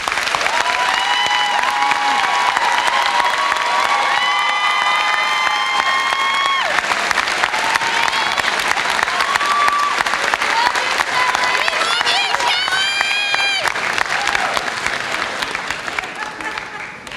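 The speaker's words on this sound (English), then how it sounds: "a round of applause for all of our faculty" Audience at a 2018 community college commencement claps and cheers for the faculty, a dense sustained ovation with whoops and shouts on top that fades slightly toward the end.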